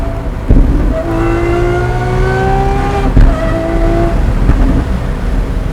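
A Lamborghini Aventador SVJ fitted with a Gintani exhaust revs hard, loud and close, with rising wails climbing in pitch and sharp bursts between them. No voices are heard.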